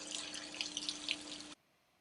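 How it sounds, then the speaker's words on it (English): Antifreeze runs in a steady, splashing stream from a faucet in a 2018 Jayco Greyhawk RV being winterized, then stops suddenly, leaving near silence. "Ensure that you have a continuous flow of antifreeze from all your faucets."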